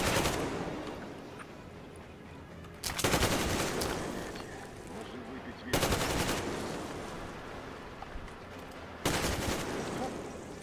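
Heavy gunfire from Metro: Exodus comes in three loud, dense bursts, each opening with a sharp attack and then a long, rattling spray of shots, with quieter gaps of ambient noise between them.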